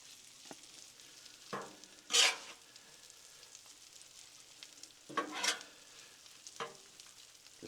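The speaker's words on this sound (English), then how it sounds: "We're going to kind of shallow fry this shrimp." Shrimp coated in egg shallow-fries in oil on a Blackstone griddle, with a low steady sizzle broken by two loud bursts of crackling spatter as the shrimp are spread across the hot surface.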